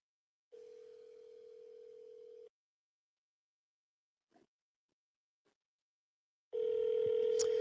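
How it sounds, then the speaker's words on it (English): A telephone ringback tone pulses while a call is being placed, with two long steady tones separated by a few seconds of silence broken only by faint clicks, the second tone louder and closer. "Come on, pick up the phone."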